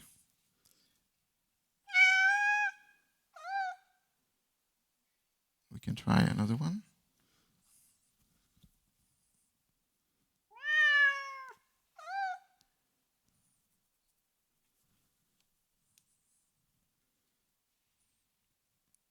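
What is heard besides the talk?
cat meow sound effects from a sound library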